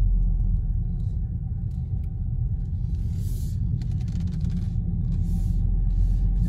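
Steady low engine rumble from a 2021 Subaru WRX base model driving around the block at dusk, heard from inside the cabin as a continuous drone with faint road noise.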